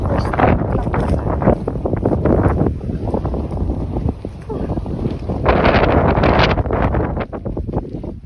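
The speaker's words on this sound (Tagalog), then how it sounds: "Basta masyado ang hangin." Strong wind on a Mount Apo climb buffets the microphone in loud, continuous roaring gusts that rise and fall, with no clear talk over it.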